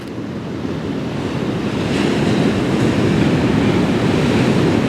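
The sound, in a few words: sea waves at Brother's Point, Isle of Skye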